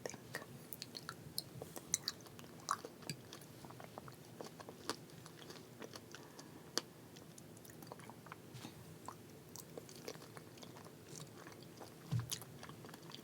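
Hot chocolate jello with cinnamon is eaten close to the mic, with quiet wet squishy chewing and soft smacking clicks in a steady irregular rhythm, no talking.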